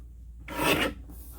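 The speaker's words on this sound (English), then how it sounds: "We're going to trim that horizontally at 6 and" A short, dry rasping stroke sounds as paper is trimmed for a scrapbook page kit, one quick close cut rising and ending within a second against a quiet background.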